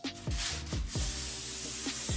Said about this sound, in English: spray your foil so that the cheese does not stick